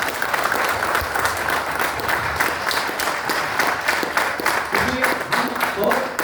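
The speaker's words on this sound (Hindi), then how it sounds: "तो एक बार जोरदार तालियां होनी चाहिए" Loud, sustained applause from an audience at a company gathering, a continuous dense patter of many hands clapping with faint voices and some background sound beneath.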